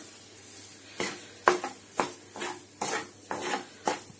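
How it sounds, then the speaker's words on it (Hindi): Moong dal being stirred and roasted in a pan for halwa, a spoon scraping the pan in steady repeated strokes about every half second, close and clear with no talking. "कंटिन्यू चलाते हुए सेकते रहें।"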